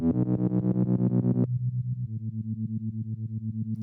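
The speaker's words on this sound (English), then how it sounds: "It's just a low end cut off, 200 hertz, pretty simple. Sawtooth." An electronic sawtooth synth bass with a 200 Hz low cut plays a fast buzzy repeated pattern, then drops to a lower, steadily pulsing note; distorted, moderately loud and with no voice.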